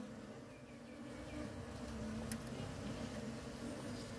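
Honey bees buzz steadily at an opened small hive with fresh white wax comb, a dense continuous drone close by, with no talk over it.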